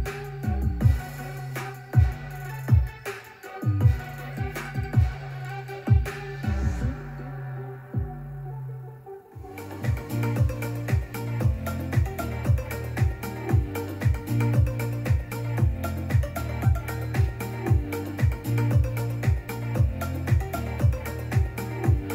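Music demo played through an Anker Soundcore Rave Neo 2 wireless speaker, with a steady thumping beat and heavy bass; the beat drops out briefly near the middle before returning loud and dense with no talking.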